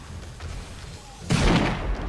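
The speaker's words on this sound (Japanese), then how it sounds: "誰が爆発させてるかわからないけど、爆発させてるのはやばいっすよ。" Explosions in the zombie survival game 7 Days to Die during a feral horde night, heard as a burst of low booms and rumbling blasts starting midway through, fairly close and loud over the game's background noise.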